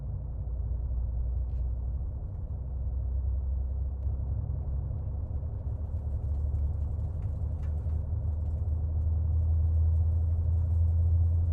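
A Boeing 757 engine starting up in the X-Plane 11 flight simulator with the Mingo Studio soundpack: a steady, loud, low rumble that holds throughout and swells slightly near the end, with no talking.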